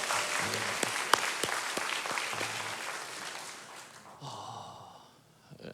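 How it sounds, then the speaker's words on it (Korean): A church congregation applauds during a Sunday afternoon worship service, a moderate crowd clapping that gradually fades. Sharp individual claps stand out early, and a faint voice and sounds from the room follow as the clapping dies away. "영광의 박수를 다시 한번 올려드리겠습니다"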